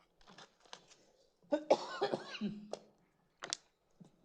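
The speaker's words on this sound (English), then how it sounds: "Because I'm just gonna keep coughing." Several coughs from a person at a township council meeting, mixed with faint throat noises; a loud cluster of harsh bursts in the middle, then a couple of shorter coughs, moderately near and not very loud.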